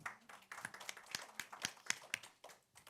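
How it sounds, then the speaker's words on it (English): Audience applause at a conference concurrent session: a sparse scattering of hand claps from a small group, uneven and fairly faint, lasting about three seconds before trailing off. "Let's give that a round of applause"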